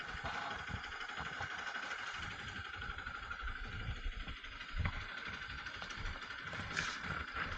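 Motorcycle engine running steadily on a rough road near a bridge under repair in stormy weather, a continuous close mid-pitched drone with slight surges rather than sharp revs, alongside wind and road noise.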